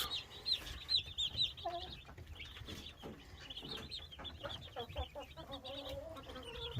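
Young chicks and ducklings peeping together in a brooder, a dense chorus of high, quick chirps near and fairly loud, with some lower calls and soft rustling.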